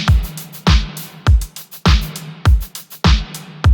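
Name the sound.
clap drum sample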